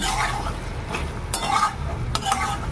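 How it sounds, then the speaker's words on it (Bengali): A spoon stirs jackfruit seed curry in a pot over a low flame, scraping and clinking with a soft simmering bubble beneath, a few sharper knocks against the pot's side standing out. "আমি ঢাকনা তুলে একবার নাড়া দিয়ে দেবো।"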